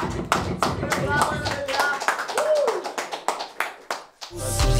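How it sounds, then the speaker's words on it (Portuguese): Audience at a rap battle clapping in a loose, rhythmic pattern of distinct claps close by, mixed with voices and a tonal vocal sound, ending with a burst of louder noise. "Palmas aí pro Breno"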